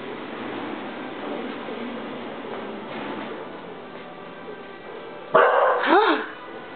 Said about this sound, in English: you just witnessed one of his very rare barks